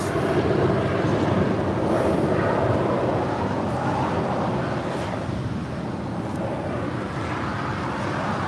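Air Canada Boeing 787 Dreamliner arriving at LAX from Toronto, a broad steady jet roar with wind buffeting, loud and sustained without a clear rise or fade.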